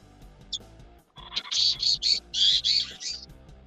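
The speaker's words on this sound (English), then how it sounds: "at night these birds are just too loud" Birds squawk loudly outdoors at night in a run of harsh, rapid calls lasting about two seconds, over a steady low hum and a brief earlier chirp.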